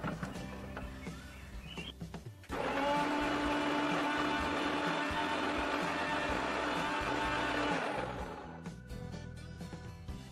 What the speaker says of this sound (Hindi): अब ब्लेंडिंग जार को कवर करके कॉफी को ब्लेंड करें।